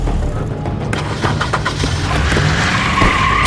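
Car skidding to a halt in The Wolf Among Us video game, a loud tire-scraping screech building over rumbling engine noise with a rising squeal toward the end.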